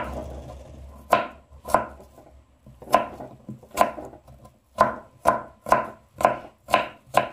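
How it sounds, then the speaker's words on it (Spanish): Apples being chopped with a knife on a cutting board for a cold pasta salad, a dozen crisp, evenly paced knife strikes close up with no talking. "aquí estoy picando lo que es la manzana"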